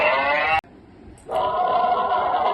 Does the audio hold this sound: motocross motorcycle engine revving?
no